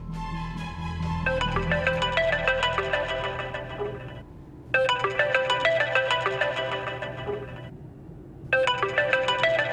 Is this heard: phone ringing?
yes